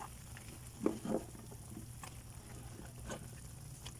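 Pork and vegetables for pinakbet sauté in a pan, a low steady sizzle with a couple of brief bursts of stirring and clatter as ingredients are moved around.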